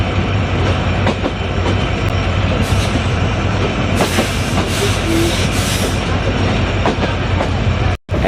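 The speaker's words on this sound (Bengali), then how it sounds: "নোয়াপাড়া থেকে আমাদের ট্রেনটা ছেড়েছে তার পরবর্তী গন্তব্যস্থানে" A passenger train running between Noapara and Jessore in Bangladesh, heard from inside: a loud, steady rumble with rhythmic clickety-clack of wheels over rail joints and bursts of hiss, ending in a brief dropout.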